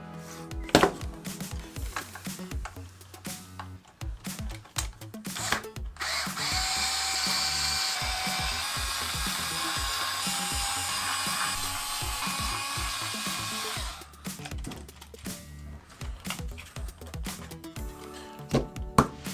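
A power tool drives out bolts on a used Traxxas Maxx RTR 4x4 RC car, first in short choppy bursts, then a steady whirring run of several seconds, then more short bursts, close and alone without speech.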